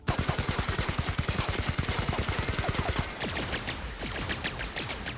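Rapid automatic gunfire in The Outer Worlds video game, a fast regular burst of loud close shots followed by scattered heavier reports and impacts.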